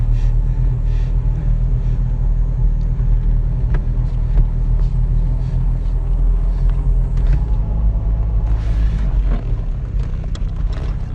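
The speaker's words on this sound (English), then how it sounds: "We're going to go for a short drive." A 1963 Jaguar Mk II drives a short distance in Joetsu, Japan, its engine a loud steady low rumble heard from inside the car, with faint creaks and mechanical noises.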